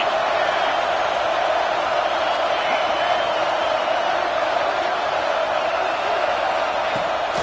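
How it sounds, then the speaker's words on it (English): Stadium crowd in the NCAA 26 college football video game roaring loudly and steadily, a dense wall of cheering that stays constant throughout. "These fans are going absolutely nuts."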